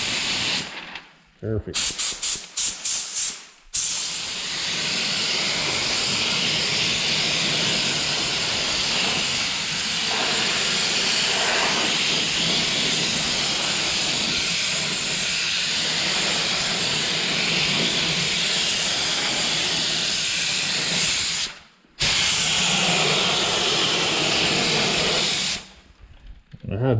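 A spray gun applying epoxy primer gives a loud, steady hiss of compressed air and spray that runs for long stretches, cutting off briefly a few times, with a short spoken word at the end.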